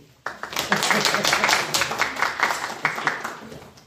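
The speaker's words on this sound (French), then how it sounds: "Nous applaudissons" An audience applauds at a lecture hall talk, with dense, steady clapping that starts abruptly and sustains for several seconds while voices murmur underneath.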